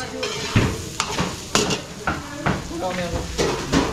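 Ginger, garlic and onion sauté in oil in a pan for a catering job, with rhythmic spatula scrapes and clanks every half second or so over a continuous close sizzle.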